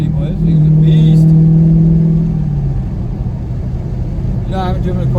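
A car engine revs up as the gas pedal is pressed, a loud close rumble that swells, holds and then settles into an idle, while voices sound briefly near the end.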